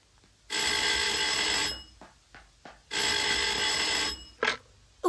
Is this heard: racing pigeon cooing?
no